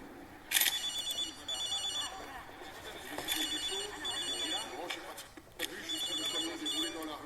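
A telephone rings in a film excerpt, repeated electronic trilling bursts in a regular rhythm, played alongside dramatic sound and a voice.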